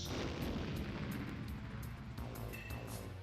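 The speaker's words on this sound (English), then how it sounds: "I swear, I've heard that explosion before as like one of the Microsoft PowerPoint noises." An explosion sound effect from the video game Paper Mario, a dense, loud, sustained rumbling blast with crackling bursts throughout, carrying on steadily for a few seconds.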